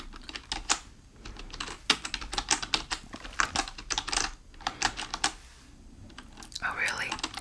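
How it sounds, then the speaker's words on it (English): Busy typing on a computer keyboard during a whispered job-interview roleplay, rapid bursts of close, crisp key clicks with brief pauses, a soft whisper breaking in here and there. "I'm gonna be typing a lot, just about everything"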